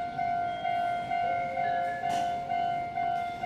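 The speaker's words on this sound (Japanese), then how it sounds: "通過電車です。" A Meitetsu Inuyama Line express runs through a station platform at Tokushige–Nagoya Geidai without stopping, heard as a steady loud rumble with a sustained tonal whine and a rhythmic pulsing of wheels over rail joints.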